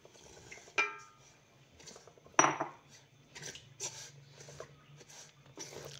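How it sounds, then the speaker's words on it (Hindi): A spoon scrapes and clinks against a pan as semolina is stirred while roasting in desi ghee, with quiet, intermittent metallic taps and one sharper knock amid near silence. "सूजी हमें चलाते रहना है और ये जलने ही नहीं चाहिए।"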